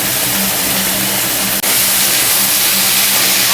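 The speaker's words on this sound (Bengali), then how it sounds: "এবার পেঁয়াজ, আলু, বেগুন, তেল সব একসঙ্গে ভাজা ভাজা করবো" Diced potato, eggplant and onion frying together in oil, a loud continuous sizzling hiss close up with one brief break midway, no voices.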